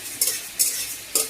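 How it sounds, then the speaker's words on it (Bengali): Lentils frying in a pan are stirred three times, each stir a brief hissing scrape against steady low sizzling, with no voices. "হয়ে গেছে ডাল ভাজা।"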